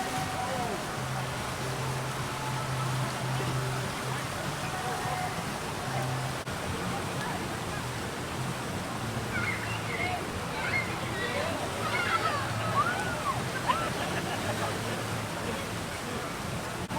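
Water gushes from tiki statues at Volcano Bay water park in Orlando, a constant broad rushing wash with faint crowd chatter rising in the background.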